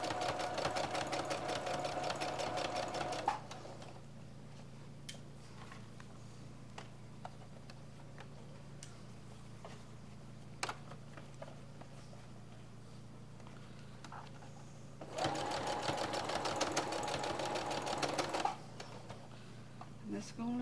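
A sewing machine stitching fabric for a pillow runs in two fast, rattling bursts of a few seconds each, with a quieter stretch between them carrying faint handling clicks and soft sounds.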